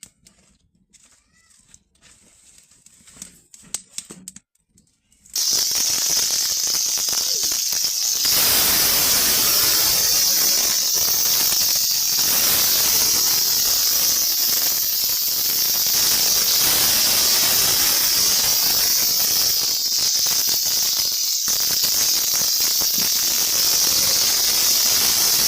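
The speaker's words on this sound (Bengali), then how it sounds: "একদম হালকা করে ভেজে নিচ্ছি।" Fish rubbed with salt and turmeric fries lightly in hot oil. After a few quiet seconds, a loud, continuous sizzle starts suddenly and holds steady throughout.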